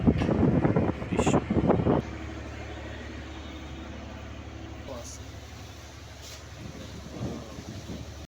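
Wind buffets the microphone at the Ilisha launch ghat riverside in Bangladesh, a steady roaring rush with faint boat and water noise, and a voice speaking over the opening seconds.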